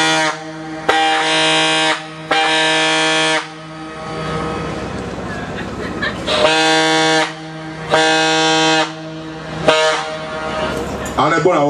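A man imitates a steamship horn with his voice, giving several long, loud, buzzing honks separated by short gaps, with stretches of lower vocal noise between them.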